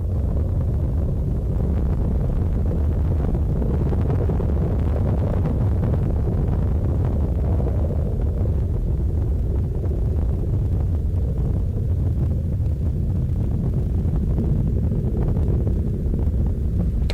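Space Shuttle Discovery's three liquid-fueled main engines roar during the STS-91 launch, a steady, distant, continuous low rumble with wind-like buffeting that holds at an even loudness throughout, with no voices present.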